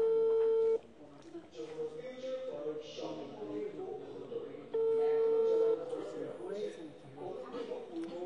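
Ringback tone of an unanswered phone call, two long steady tone bursts several seconds apart, with someone talking quietly between them.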